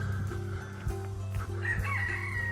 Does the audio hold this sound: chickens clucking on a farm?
yes